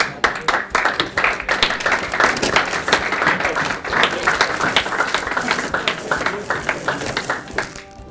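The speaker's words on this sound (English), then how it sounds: "Round of applause" Audience applause at a quiz night, with distinct individual hand claps standing out from a lively, uneven crowd clapping that tapers off at the end.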